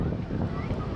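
Wind gusts hard across an outdoor viewpoint at an amusement park, a loud, rough, continuous roar buffeting the microphone with no gaps.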